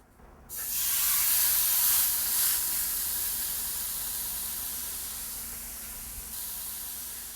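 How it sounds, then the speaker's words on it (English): Flank steak hits a hot oiled skillet and sets off a loud, steady sizzling hiss that swells at once and then slowly eases, with no talking. "I'm just gonna let it cook 5 minutes on each side because flank steak cooks really quickly"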